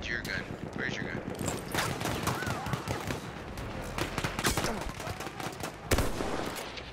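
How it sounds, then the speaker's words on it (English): Gunfire crackles in Battlefield 1 as bursts of automatic fire and single sharp shots arrive from varying distances, with a voice talking over the battle. "Oh god, I'm getting shot at by this."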